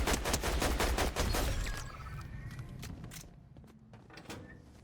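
Sniper rifle fire in Fortnite Zero Build, loud cracking bursts at the start that fade into quieter game ambience and distant mechanical clatter.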